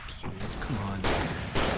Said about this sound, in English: Fire the gun